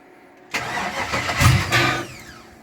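A 1979 GMC C15 truck engine with a newly welded exhaust turns over and catches with a loud rough surge, then settles briefly before fading.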